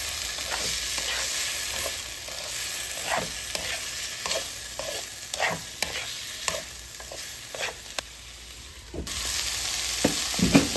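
Chicken liver pepper fry being stirred in a pan, Kerala thattukada style, with a steady close sizzle broken by repeated scraping strokes of the spoon through about ten seconds; the hiss swells again near the end.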